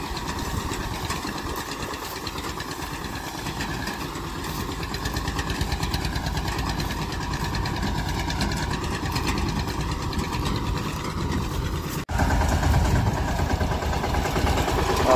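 Eicher 241 tractor engine running with a reaper machine while cutting wheat in a field, a steady chugging mechanical drone that grows slightly louder over time, with a sharp jump in level near the end.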